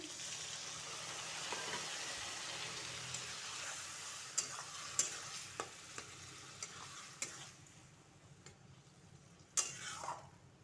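A pan of pointed gourd with lentils hisses and sizzles as water goes in, the steady frying sound fading while a spoon stirs with sharp clinks against the pan.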